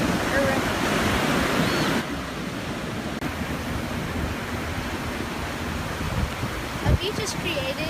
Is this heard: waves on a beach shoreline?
yes